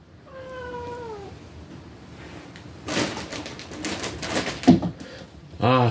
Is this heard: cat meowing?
yes